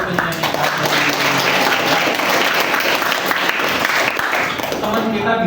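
Steady applause from a crowd, dense and continuous clapping filling the whole stretch with a broad hiss-like texture, with a faint murmur underneath.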